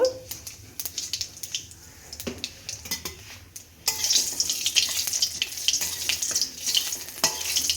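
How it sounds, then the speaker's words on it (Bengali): Bay leaf, dried chillies and cumin hit hot oil, and after scattered clinks and taps the pan bursts into a loud, crackling sizzle that continues steadily with occasional utensil knocks. "তেলটা গরম হয়ে গেছে, এরপরে তেজপাতা, গোটা শুকনো লঙ্কা, একটু গোটা জিরে দেব"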